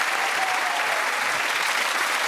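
Dense, steady applause from a studio audience at a television comedy panel show taping, loud and continuous with no pauses.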